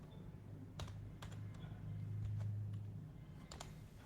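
Computer keyboard typing in Tally accounting software, a handful of quiet, scattered keystrokes over a soft low hum, no talk.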